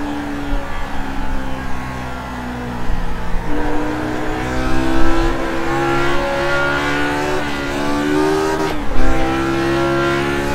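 Lotus 49 race car at Twin Ring Motegi, its engine howling loud and close under acceleration, pitch rising and dropping sharply through gear changes, with a brief tire squeal under braking.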